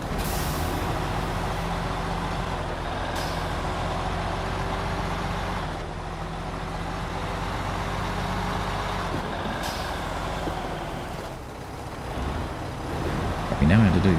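A Mack truck in the video game SnowRunner labors up a steep slope, its engine a steady, deep droning strain with a few shifts in pitch, while a person talks over it.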